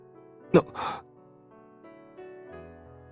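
A sudden sharp gasp is followed by a longer, breathy exhale, both close and loud over a soft, sustained musical backing that continues quietly afterward.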